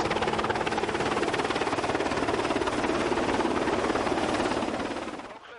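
Helicopter hovering close over a ship's deck during a winching operation, a loud, steady rotor thrum and turbine roar filling the whole stretch before easing off slightly at the end.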